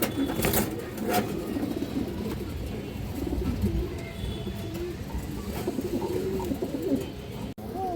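Green-necked pigeons coo steadily in a low, overlapping murmur throughout, with faint traffic noise in the background.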